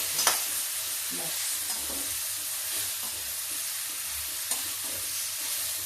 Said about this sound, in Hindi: ऐसे धीमी आंच पे इसको फ्राई करेंगे